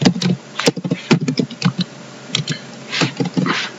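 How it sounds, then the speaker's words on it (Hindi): Fingers type on a laptop keyboard in quick, irregular bursts of crisp key clicks with short pauses between, close and fairly loud, with no voice. "लैपटॉप की कीबोर्ड का मसला है"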